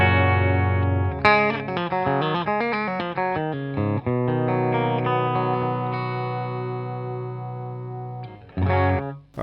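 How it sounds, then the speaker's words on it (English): A standard Telecaster electric guitar plays clean through a Fender Deluxe Reverb amp, with ringing chords and single notes that sustain and decay under light reverb, then a short burst of strumming near the end. "here's my clean sound. I'm running through my Fender Deluxe Reverb and I'm playing my standard Telecaster."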